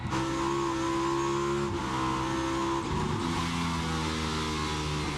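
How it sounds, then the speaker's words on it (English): A NASCAR race car engine revs hard and close, a loud, continuous roar that climbs in pitch, drops twice as gears shift, then rises again. "you could definitely hear the engine rev"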